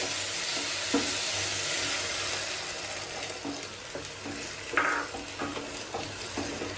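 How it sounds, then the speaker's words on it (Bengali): Coconut milk is poured into a sizzling cauliflower masala, a steady frying hiss with splashing, liquid bursts and a few clattering stirs, the sharpest pour mid-way. "এই পর্যায়ে আমি নারকেল দুধটা অ্যাড করে দিচ্ছি।"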